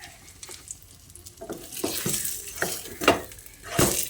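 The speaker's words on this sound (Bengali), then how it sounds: "বেগুন খুব ভালোভাবে ভাজা হয়ে গেছে" Eggplant slices frying in hot oil sizzle in a pan while a utensil scrapes and lifts them, with several sharp clinks and stirring bursts over the continuous crackle.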